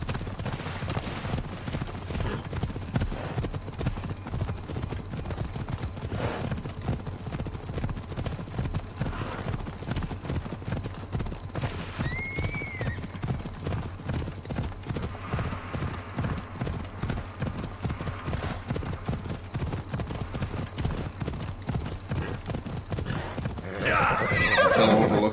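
Horse hooves clip-clop steadily through Assassin's Creed Odyssey, with a whinny near the middle and a louder burst of hoofbeats at the end, over a low background rumble.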